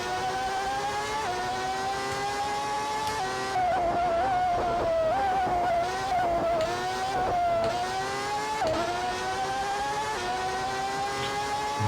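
1989 McLaren Formula 1 car in Grand Prix 4 with a high, whining engine that climbs and drops through gear changes, loud and steady throughout with no talk over it.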